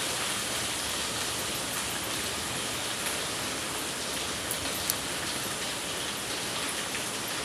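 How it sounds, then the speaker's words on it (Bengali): Ginger and garlic frying in a pan of hot oil, a steady, dense sizzle that stays even and fairly close throughout, with a few faint pops and no voices. "আদা রসুনটাকেও ভালোভাবে আমি ভেজে নিব।"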